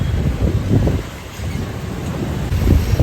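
River water rushes steadily in a loud, close outdoor wash, heavily mixed with buffeting wind noise on the microphone.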